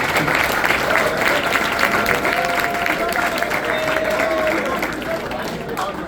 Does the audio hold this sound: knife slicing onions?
no